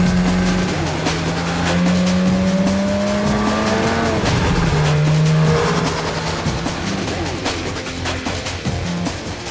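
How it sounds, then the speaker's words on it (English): A Porsche 911 GT3 runs on a factory roll test up to 75 mph, its engine loud and close and rising through gears with a high whining tone and a steady roar throughout. "Then, another roll test takes the car up to speeds of 75 miles per hour."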